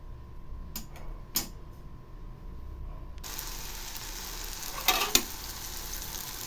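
Ghee begins sizzling in a kadai on a lit stove after a few quiet clicks and taps, settling into a steady, close hiss with a couple of sharper crackles.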